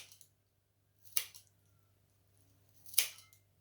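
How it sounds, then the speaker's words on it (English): Two crisp snips of kitchen scissors cutting broccoli sprouts for a brunch bowl, spaced about two seconds apart, close and fairly quiet against a low steady hum. "Snip a bit of my carpet of broccoli sprouts."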